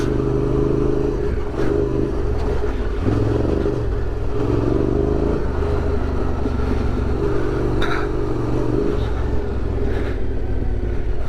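A big adventure motorcycle riding off-road through Iron Stab National Forest near Rockmart, Georgia, its engine droning steadily and close throughout, with rattling and clatter over rough ground.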